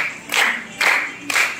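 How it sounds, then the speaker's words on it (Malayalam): Three short bursts of group clapping at a dance academy's New Year celebration, evenly spaced and fairly close, with no voices in between. "ക്ലാപ്പ് ക്ലാപ്പ് പോരാ."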